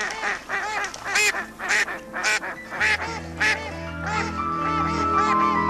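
Ducks and geese gather at a waterfowl stopover in the Delta's Grand Prairie farmland, giving a loud, dense chorus of overlapping quacks and honks in rapid bursts, with steady background sound underneath.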